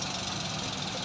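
Multicab engine running at a rough idle, a steady close mechanical rumble with uneven knocking texture throughout, no voices.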